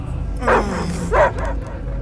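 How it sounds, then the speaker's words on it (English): A dog barks in the Guardians of the Galaxy video game, two separate yipping barks about half a second apart over a low game rumble. "I hear only barking."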